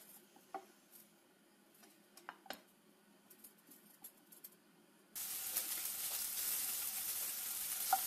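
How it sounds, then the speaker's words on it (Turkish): Butcher-style Turkish sucuk sausage slices dropped into a hot pan without added oil crackle faintly at first, then burst into a loud, steady, close sizzle that holds to the end. "Şu şekilde hemen sucuklarımızı atalım."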